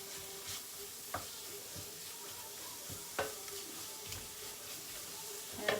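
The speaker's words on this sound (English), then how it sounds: "And I'm just gently frying this." Gentle sizzling of sugar bean curry ingredients frying in a pan, with occasional soft clinks and stirring sounds rising above the steady hiss.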